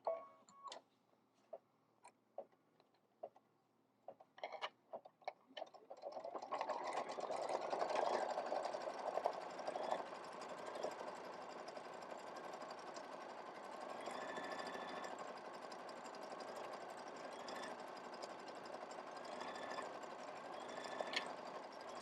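Faint ticking clicks come first, then a sewing machine runs a decorative stitch on a hexagon quilt block in a steady, fairly quiet hum for about sixteen seconds, with no talking.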